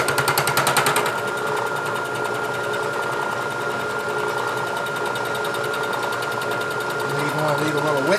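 A saw cuts metal stock for a lathe carriage stop body in a machine shop, giving a steady, loud, buzzing mechanical drone with a fast repetitive pulse that carries on throughout and shifts slightly in pitch near the end.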